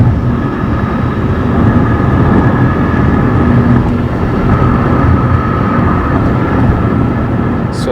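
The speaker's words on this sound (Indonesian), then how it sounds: "Suara angin, suara ban" Steady broadband wind and tyre roar fills the cabin of a Honda Civic Turbo cruising at 100 km/h on cruise control, a constant loud rumble with no break and no talk.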